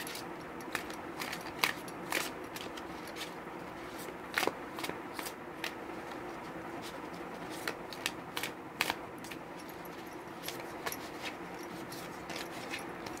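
Tarot-style cards shuffled and laid out for a reading: a steady run of soft, close riffling and flicking taps with occasional sharper snaps, alone with no talk.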